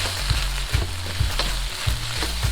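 Beef stir-fries in a wok with a steady loud sizzle, broken by regular rhythmic scraping and tossing strokes about every half second, close up and with no talk.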